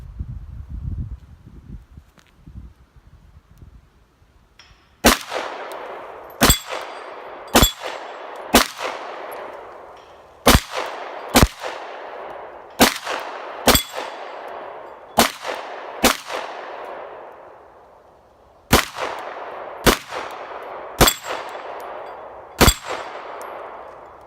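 CZ P07 pistol shots ringing off a small steel target, about fifteen sharp metallic clangs at uneven intervals, each followed by a short decaying ring, preceded by a few seconds of quiet rustling.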